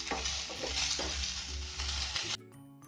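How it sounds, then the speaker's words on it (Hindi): Onions frying in a pan for sarson ka saag, a dense close sizzle with stirring scrapes that cuts off abruptly near the end, leaving a faint tail. "प्याज भी हमारे भून रहे हैं, लाल होने से अच्छा से लाल करने होंगे।"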